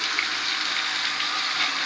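Water pours from a 3,000 gallon-per-hour bilge pump during a test, a loud, continuous rushing flow heard up close with no break and no voices.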